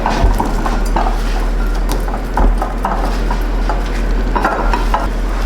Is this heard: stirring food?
yes